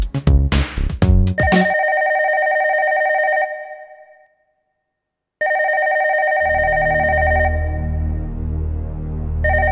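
Telephone ringing in a film scene: a loud electronic bell ring tone that follows a burst of musical stabs, cuts out for a moment of silence, then rings again steadily under a low rumbling music bed.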